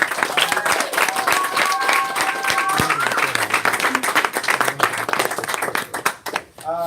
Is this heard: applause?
yes